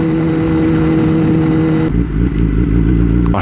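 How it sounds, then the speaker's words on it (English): A loud Kawasaki ZX10-R sport motorcycle roars steadily while riding, then the engine note drops and changes pitch as it slows, heard close up with no talk. "I did forget how loud this bike is. It's definitely louder than the R6."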